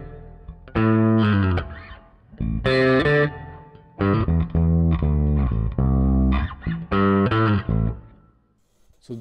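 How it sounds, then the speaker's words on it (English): Bass guitar played through Axiom amp simulation emulating an amp with an aluminum speaker, a series of sustained, effected notes and short phrases with gaps between, loud and alone with no talking. "So this one simulates an amp with an aluminum speaker."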